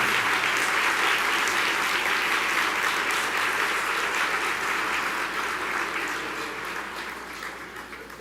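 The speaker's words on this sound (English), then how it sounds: "give them a roaring round of applause" A luncheon audience applauds Urban League Guild volunteers with loud, dense clapping from a large crowd that holds strong and then gradually fades toward the end.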